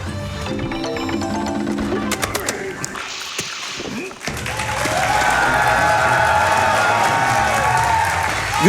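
A live speedrunning event crowd cheering and applauding for a Donkey Kong Jungle Beat run: a few scattered claps at first, then a loud, sustained roar of cheers and clapping swelling and holding to the end.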